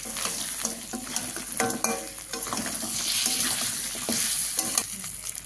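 A fish head goes into a hot pan of oil with turmeric for a moong dal dish and fries with a loud, steady sizzle, broken by the scrape and clatter of stirring.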